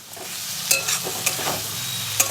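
Carrot, beans, capsicum and chilli frying in a pan for egg pocket paratha, a steady sizzle broken by several sharp scraping stirs of a spatula, close and without talk.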